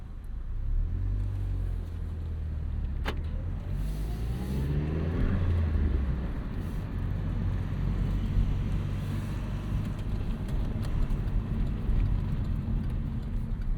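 A 2009 Chevrolet Cobalt SS turbo compact drives along a road on a fall day, giving a steady low engine drone and tyre roar with a rising swell of acceleration early on, continuous and close throughout.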